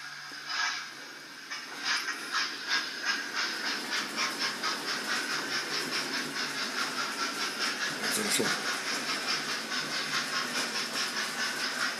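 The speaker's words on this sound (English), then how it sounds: "we'll run this train round a couple of laps" A small model train runs along its track with a quiet, rhythmic clicking and a soft hiss, fairly faint and steady.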